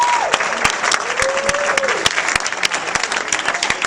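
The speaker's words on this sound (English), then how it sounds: "Big hand clap for all the guests, y'all." An audience at a company gathering claps loudly for the guests, dense continuous applause close by, with a voice briefly calling out over the clapping.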